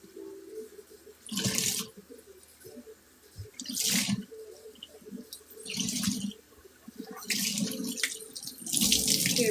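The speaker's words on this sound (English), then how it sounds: "So now we're just rinsing these." Sponges being rinsed under a running tap in a sink after a warm-water and Ajax wash, with bursts of rushing water and squeezing alternating with quieter dripping and splashing, close and fairly loud, no talking.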